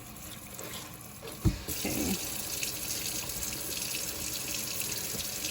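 Water poured onto seed-starting mix rich in peat moss, for indoor seedling trays: after a brief thump, a close, steady rush of running water that fills the rest, with a single spoken word.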